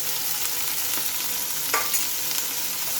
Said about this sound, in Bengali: পেঁয়াজটা দিয়ে নিচ্ছি আর রসুন আর লঙ্কা কুচিটা আমি দিয়ে নিলাম